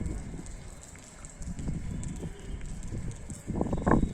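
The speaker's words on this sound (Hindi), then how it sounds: "हवा चलत बाटे, बारिश अभी रुकी अभी।" Wind blowing and rain falling outdoors at the Sher Shah Suri tomb in Sasaram, a steady broadband rush with gusty swells and patter, louder in bursts toward the end.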